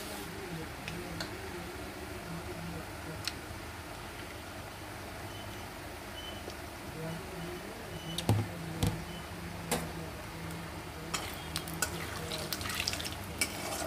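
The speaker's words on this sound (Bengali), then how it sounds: "ফোড়নটা ভাজা হবে।" Nigella seeds fry in hot oil in a wok as a tempering, a steady soft sizzle with occasional clinks and stirring scrapes toward the end.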